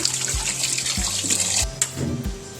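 Running tap water pours over pork bones (buto-buto) being rinsed in a kitchen sink for a Waray-style boiled soup, a steady close splashing stream with a few heavier thuds and clatters as the bones shift.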